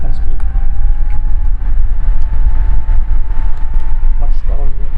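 A Kyowa KW-6900 box fan running at its second speed gives a loud, constant rushing whir with a faint steady motor tone and a few light clicks throughout.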